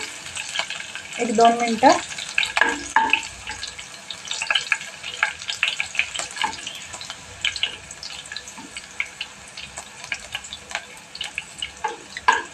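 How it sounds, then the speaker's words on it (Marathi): Green chilies roast in a pan for kanda poha with a soft, continuous sizzle. Scattered clinks and scrapes of stirring break through it, and a voice speaks briefly. "थोडा वेळ अशी जराशी मिरची भाजून घेऊया"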